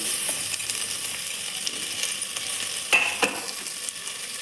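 Chopped onions frying in hot oil in a pan, a steady close sizzling hiss with a couple of brief stirring clicks near the end.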